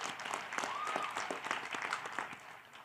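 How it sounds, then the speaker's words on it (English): Graduation audience applauding the graduates, a moderately distant round of clapping with scattered individual claps and a few voices calling out over it. "Round of applause to all of you guys."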